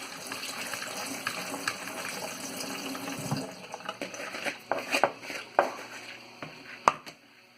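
Water runs and splashes over watermelon seeds being rinsed in a colander. The flow is steady at first, then gives way to scattered drips, taps and wet clatters close by.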